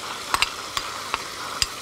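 Chopped green coriander and garlic fry in a pan under a steady sizzle, as a utensil scrapes and taps against the metal in a handful of sharp, close clicks.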